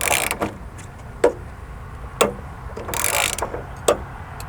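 A hand ratchet torques lugs on electrical service connections, giving several short, sharp clicking bursts spaced irregularly, close and fairly loud over a quiet background, with no talking.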